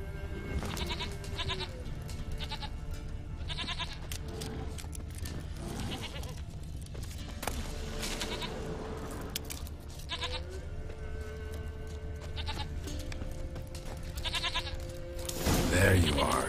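A goat bleats repeatedly in The Witcher 3, wavering cries recurring through the scene alongside game ambience, with a voice talking over parts of it.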